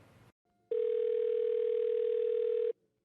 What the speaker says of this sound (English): This was the sound you heard if you tried calling 911 in Erie County early this morning.